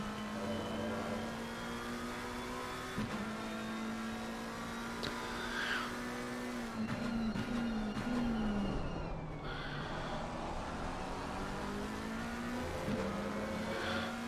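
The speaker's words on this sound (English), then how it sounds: "That McLaren does sound awesome," Engine note from a McLaren race car at an ERA race at Snetterton, a steady loud drone that rises in pitch as it revs and wavers with gear changes, with other cars audible around it and no talk.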